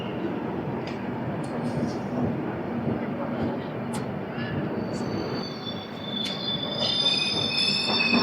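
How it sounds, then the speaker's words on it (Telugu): Vande Bharat express, train 20834 from Secunderabad to Visakhapatnam, pulling out of Samalkot Junction station: a continuous close rolling rumble of coaches with bright, repeated wheel squeals rising and overlapping toward the end. "వందే భారత్ వెళ్ళిపోతుంది."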